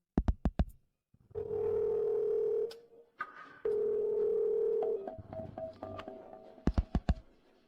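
A telephone ringback tone sounds as two long, steady, loud pulses separated by a short gap, framed by sharp clicks and taps at the start and end of the call.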